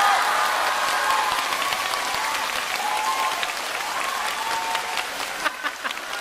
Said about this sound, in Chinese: 依然还有掌声